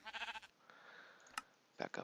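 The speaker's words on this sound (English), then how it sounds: "Hey, come back here, sheep." Sheep bleats from the video game Minecraft: a quick run of pulsing, buzzy bleats at the start, then a brief click and a couple of short, sharper bleats near the end, set against quiet background.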